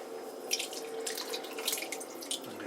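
Tap water runs steadily into an emptied diced-tomato can as it is rinsed out in a kitchen, a close, continuous splashing hiss with small bursts of louder spatter.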